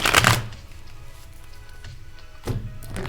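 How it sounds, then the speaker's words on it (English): Tarot cards being shuffled in a quick burst of papery riffling at the start, with a second shorter shuffle near the end and quiet between. "Quick shuffle in case I forget in a little bit."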